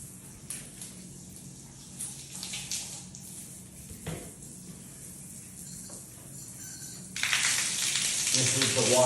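Water bursts from the hand wand of a ROVATE rainfall waterfall shower tower panel, a loud, steady hissing spray starting late after quieter handling noises, near the microphone.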